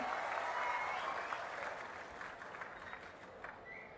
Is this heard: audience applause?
yes